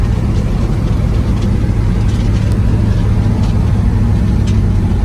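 A 1966 Chevy Impala with a newer power steering gearbox cruising at 60 mph, its steady low engine drone and road rumble filling the interior in a constant, unbroken roar with no talking.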